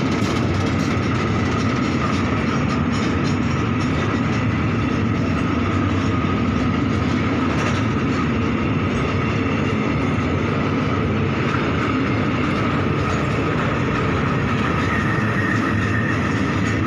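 A Thai black express train pulls away along the rails, a steady loud rumble of wheels and carriages with faint clickety-clack, continuous and unbroken for the whole stretch with no talk.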